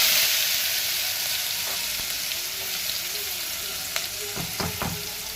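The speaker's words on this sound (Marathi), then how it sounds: "कांदा छान परतवून घेऊया आता" Chopped onion sautés in hot oil with cumin and asafoetida while making a crab soup, giving a steady, close sizzling hiss with a few soft stirring clicks and spatula scrapes near the end.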